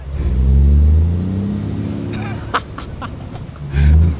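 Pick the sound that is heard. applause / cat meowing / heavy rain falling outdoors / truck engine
truck engine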